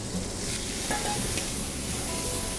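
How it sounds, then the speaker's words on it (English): Onions sizzle loudly as they hit hot oil with frying confit potatoes, a steady broadband hiss with stirring scrapes throughout, no talk. "So we're gonna add the onions now"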